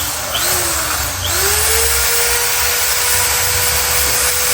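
A power drill spins up and bores holes, a near, steady whine that dips and then rises to a constant pitch, running continuously for several seconds without talk.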